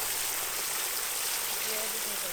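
Water gushes steadily from a leaking garden irrigation line in a crop field at planting time, a continuous close rushing splash with a faint voice underneath.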